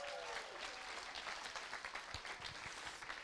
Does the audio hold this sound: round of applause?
yes